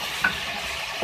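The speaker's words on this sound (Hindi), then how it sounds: "अब इसके अंदर मैं टमाटर ऐड करूँगी। 2 मीडियम साइज़ के टमाटर हैं, इनको चॉप करके ऐड कर लें।" Two medium chopped tomatoes drop into softened frying onions for an arvi gosht beef curry, a brief close sizzle with a quick stir scrape, short and fairly loud.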